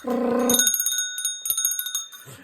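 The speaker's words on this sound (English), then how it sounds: "Oh, ring a bell." A bicycle-style bell rings in a quick run of bright, repeated strikes, just after a short voice at the start.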